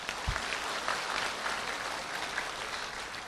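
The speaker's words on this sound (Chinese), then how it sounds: "鼓掌。" An audience claps together in a continuous, dense round of applause that stays fairly loud and even from start to finish, with no one speaking over it.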